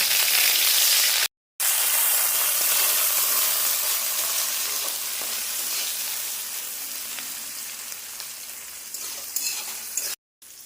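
Chopped onion sizzling and frying in a hot pan for a paneer curry, a steady loud hiss with light stirring scrapes, briefly cut off near the start and the end.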